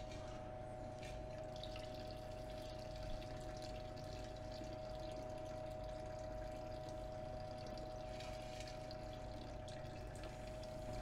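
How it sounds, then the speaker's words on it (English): Running water rinses silver nitrate electrolyte off cast silver, a steady even rush with a constant pump-like hum underneath, unbroken for about eleven seconds with no talking. "just to make sure that we've got all of the silver nitrate electrolyte rinsed off of our silver"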